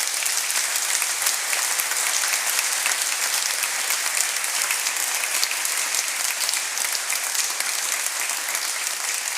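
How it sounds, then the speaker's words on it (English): Sustained applause from a festival audience for a discussion panel, an even, dense wall of clapping that holds at a steady level for the whole stretch. "Can I thank the panel, and please a round of applause for them."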